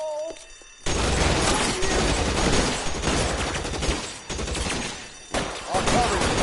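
Dense, loud gunfire erupts in the LA Noire video game as a sustained volley of shots rattles for several seconds. After a brief dip the barrage rises again.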